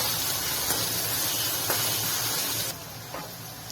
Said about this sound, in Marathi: कांदा चांगला 3-1 मिनिटं परतवून घ्यायचा।